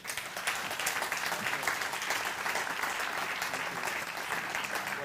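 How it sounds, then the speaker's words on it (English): A conference audience applauds a panel at an annual summit: dense, steady clapping fills the whole stretch at an even level, with no single voice standing out. "Give them a big round of applause."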